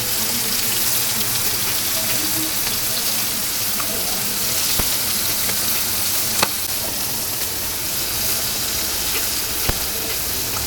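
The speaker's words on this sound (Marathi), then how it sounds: "कांदेली फ्राय करत टाकलेली आहे मस्त फ्राय होते मच्छी" Mandeli fish sizzles in hot oil in a frying pan, a dense, steady crackling hiss that runs throughout. A few sharp pops and clicks stand out close by.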